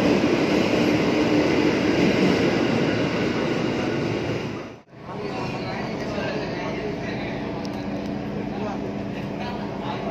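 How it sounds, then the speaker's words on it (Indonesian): A commuter train pulls away toward Cikarang at a Tanah Abang transit station, a steady loud rumble and rail roar filling the platform, dipping briefly midway then continuing as a sustained broadband wash with people talking. "ini kereta yang tadi kita naikin. Udah menuju ke arah Cikarang"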